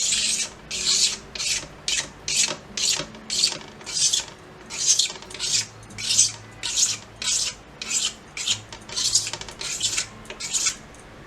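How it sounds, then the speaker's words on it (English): A cutter is dragged along the sides of a resin art tray, scraping off hard, uneven edges in a steady run of about seventeen short, harsh rasping strokes, close and clear with no talk. "drag the cutter along the sides in this way. It will scrape out any hard or any uneven edges"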